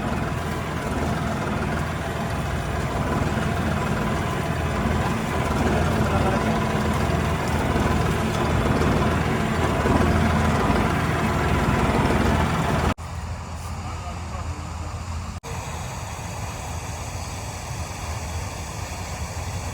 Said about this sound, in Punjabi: ਲਾਲ ਕੰਬਾਈਨ ਚੱਲਦੀ ਆ